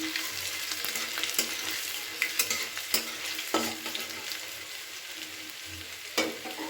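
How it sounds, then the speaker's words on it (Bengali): Chopped ginger fries in a pan of oil while being stirred, a soft steady sizzle broken by sharp scraping clicks of the spatula at irregular intervals, fairly quiet and without talking. "কুচিয়ে রাখা আদাগুলোকে এর মধ্যে দিয়ে দিলাম দিয়ে এটাকে খুব ভালো করে নাড়াচাড়া করে নিচ্ছি"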